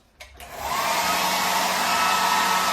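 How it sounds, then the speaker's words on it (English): Hotel room hair dryer at the Ilunion Malaga switched on after a short click and rising into a steady, loud whooshing blow of air that holds constant, no talking. "There is a hair dryer for you"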